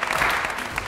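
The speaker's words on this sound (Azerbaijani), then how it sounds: "Alqışlar xahiş edirik" Audience applause at an evening game show in Baku, a short steady burst of clapping that stays even throughout without pause.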